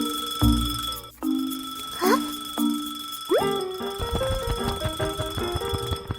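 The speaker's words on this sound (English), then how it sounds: "Suddenly, the clock starts ringing loudly." A cartoon alarm clock rings in a few short bright bursts on the table, followed by boingy, plucky musical effects and a busy playful score.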